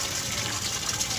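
Water gushes into a container holding fish, a brief continuous splashing and filling sound heard close up.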